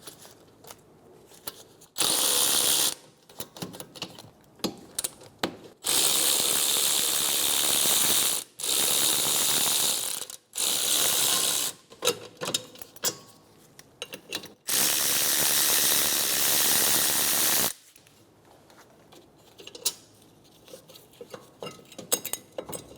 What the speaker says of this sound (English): Using a 14mm socket, I'm going to remove the 2 caliper bracket mounting bolts.